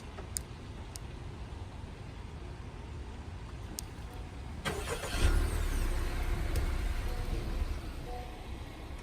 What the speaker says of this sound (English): I'm going to go ahead and remote start the car.